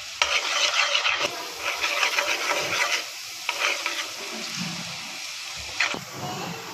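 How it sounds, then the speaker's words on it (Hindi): Sliced onions sizzle in hot oil in a pan for an arvi masala curry, with repeated scraping stirs from a spatula cutting through a steady frying hiss. "ये प्याज को हम लाइट ब्राउन गोल्डन करेंगे।"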